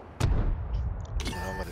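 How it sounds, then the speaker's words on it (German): Tank cannon fires in World of Tanks, the Type 5 Ka-Ri tank destroyer: a sharp booming blast followed by a rumbling tail, then a second crack with metallic ringing shortly after. "Hier haben wir den ersten Schuss verpasst."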